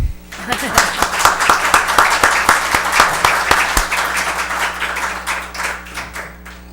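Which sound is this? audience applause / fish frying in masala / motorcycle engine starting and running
audience applause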